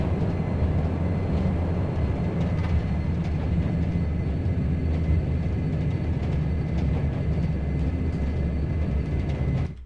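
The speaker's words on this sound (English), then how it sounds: "Get reverse thrust on." Steady, loud roar of Q400 turboprop airliner engines in reverse thrust on the runway after landing in a flight simulator, a broad sustained rumble that cuts off abruptly at the end.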